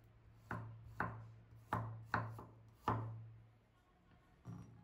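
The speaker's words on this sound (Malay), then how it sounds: "Bawang putih ni dihiris kasar." Garlic being roughly chopped on a board with a knife, six close, sharp chops at an uneven pace, with no one speaking.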